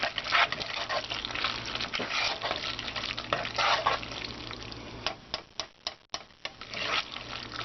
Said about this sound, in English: Now we kind of just stir this all together. That pot's still nice and hot.